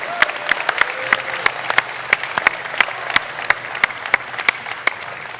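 A conference crowd at a games expo developer session claps together, a dense, steady round of applause with sharp individual claps standing out across the whole stretch.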